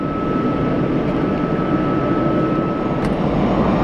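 RCAF CC-177 Globemaster III jet engines during a cold start at Calgary airport, a loud steady broadband roar with a faint whine, continuous and close.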